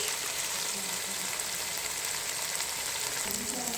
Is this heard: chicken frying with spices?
yes